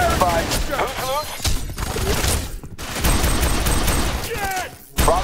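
Rapid gunfire fills a firefight in the video game F.E.A.R. 3, dense loud bursts going almost nonstop, with shouted voices in the middle of the shooting.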